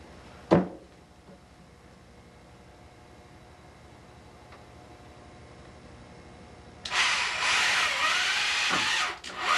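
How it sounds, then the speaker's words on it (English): A power drill drives screws into a TV stand, first a sharp knock, then a quiet pause before a loud, steady whirring burst of about three seconds close by, with no talk. "put 2 screws in the other side, drop in the top shelf and do 2 more."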